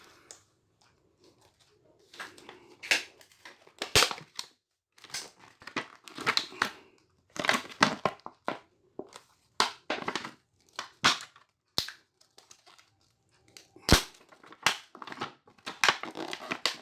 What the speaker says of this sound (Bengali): এই দেখুন একদম পুরো এই ব্লেড চালিয়ে দিলাম, এটা নষ্ট হয়ে যায়